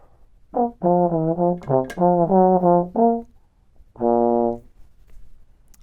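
A trombone plays slow, sustained notes one after another, with short gaps, then a final held tone after a pause.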